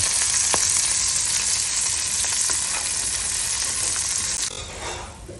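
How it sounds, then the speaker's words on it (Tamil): Dried fish frying in a pan for a dryfish sambal, giving a steady, loud sizzle with occasional scraping clicks of stirring, easing slightly near the end. "இந்த மாதிரி கருவாடு நல்ல ப்ரௌன் ஷேட் வர வரைக்கும் வறுத்துடலாம்"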